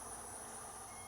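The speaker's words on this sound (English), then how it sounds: "I guess this is one of those cicadas." Cicada outdoors on a hot July day: a faint, steady, high-pitched buzzing drone with no breaks or other sounds.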